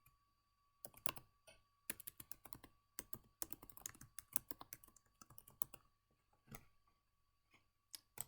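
Keys clatter on a computer keyboard in quick irregular bursts as a title is typed into an appointment form, close and fairly quiet, with short pauses between runs of keystrokes.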